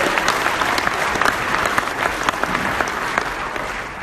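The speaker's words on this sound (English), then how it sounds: "So please a round of applause for them." Steady applause from an audience at an evening education celebration dinner, dense clapping held at an even level for the whole stretch with no talk over it.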